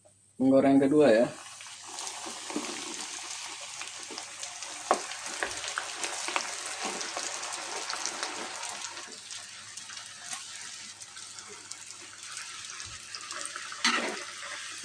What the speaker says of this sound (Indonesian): Kita lanjut menggoreng kedua ya